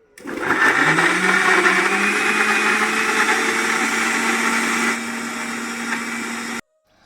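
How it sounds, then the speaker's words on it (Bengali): A mixer grinder blends tomatoes into a paste with a loud, close, high-pitched whine. It runs steadily for about six seconds, drops slightly in pitch partway through, and then cuts off abruptly. "এবার আমি টমেটোটা পেস্ট করে নেবো"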